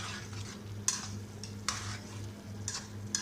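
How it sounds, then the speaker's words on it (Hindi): A spoon stirs liver karahi in two to three spoons of hot oil, scraping steadily through a continuous sizzle with a few sharper clinks against the pan, close up and with no talk. "इसमें बीच हमने चम्मच चलाना है"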